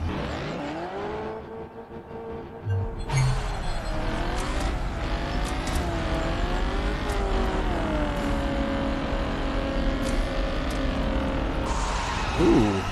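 Cars racing in the video game Street Outlaws 2, sustained engine drone with rising and falling revs and gear shifts, loud and continuous over several seconds, with brief bursts of other game sounds.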